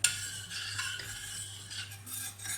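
Madeira sauce ingredients are stirred together in a pot, giving soft, continuous scraping and swirling strokes that stay close and quiet with no talk.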